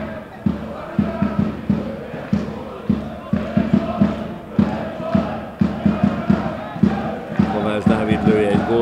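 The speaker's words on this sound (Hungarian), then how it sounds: "Kovács Dávid lője egy gólt, énekli a Budafoki közönség." Budafok supporters chant in rhythm in a football stadium, a crowd repeating a steady clapped beat of loud, regular pulses with sung voices throughout.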